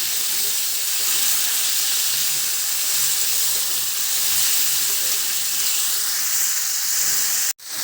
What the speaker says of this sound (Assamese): ইয়াত মই পেষ্টটো ভাজি ল'লোঁ।